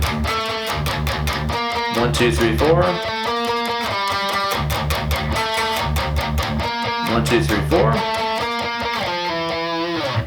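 A distorted electric guitar plays the second harmony part of a riff in chugging, repeated phrases with bursts of higher bent notes, loud and sustained, while a voice counts along.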